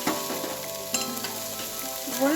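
Spice paste frying for a yam and prawn curry, with continuous close sizzling in a pan and repeated spatula scrapes and stirring knocks.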